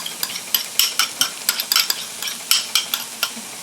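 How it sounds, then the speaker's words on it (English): A spoon stirs spaghetti sauce of tomatoes and onions in a pot at home, giving a series of close, rhythmic scraping and clinking strokes with short gaps between them and no talking. "let's go ahead and stir it some more"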